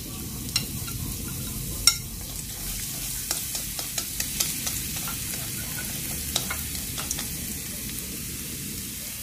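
Minced garlic sizzles in hot oil in a pan for a vegetarian chili-lemongrass stir-fry, a constant soft crackle broken by sharp pops and a few stirring clicks, heard up close and alone.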